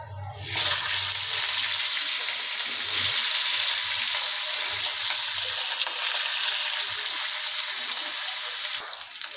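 Fish sizzles loudly in hot oil, a steady crackling hiss that runs continuously from start to finish with a few low bumps underneath.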